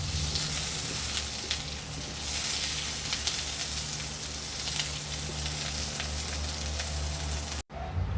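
Hot dogs fry in a pan on a home stove, a steady close sizzle and crackle with faint stirring that runs unbroken before cutting off abruptly near the end.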